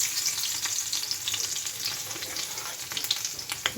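Garlic and cumin seeds sizzle steadily in hot oil, a dense close crackle with occasional sharper pops and faint stirring, no voices over it.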